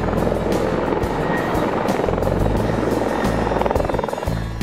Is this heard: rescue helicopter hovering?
yes